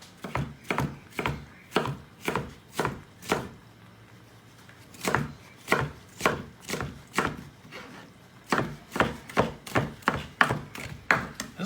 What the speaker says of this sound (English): first we'll do the juliennes for the strips, and then we'll do small dices